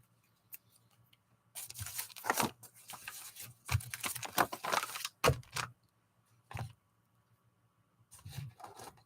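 Paper being ripped by hand at a desk for gluing: several quick tearing and crinkling bursts, close and fairly quiet, separated by short silences.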